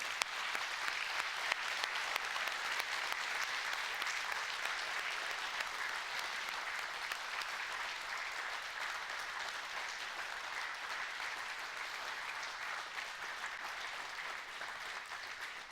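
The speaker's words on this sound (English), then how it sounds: "I want us to just give them a round of applause for all they are to us." A church congregation applauds mothers in a steady, sustained round of clapping that stays fairly distant and even throughout, with no talk over it.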